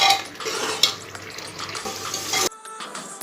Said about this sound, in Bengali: এখন মশলাটা কষানো হোক